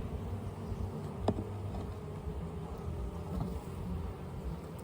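Honey bees buzz on brood-filled hive frames as a young colony expands its nest, with a steady low drone throughout and a couple of brief sharper knocks.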